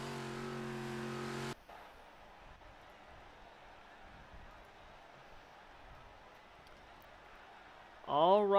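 Big Block Modified stock cars circle the track in a sim racing game heat race, a steady engine drone running throughout after a louder harmonic roar at the start, with a brief rising whine near the end.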